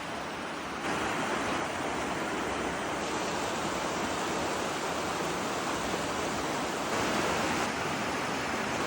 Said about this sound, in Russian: И к тому же течение очень сильное, Шаро-Аргон.